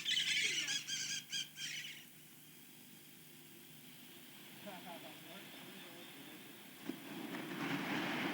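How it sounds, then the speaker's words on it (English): Birds squawk outdoors in a dense, loud burst at the start, then fade into a low hum and rumbling background, with faint voices partly under it. "I got the birds in that shot too."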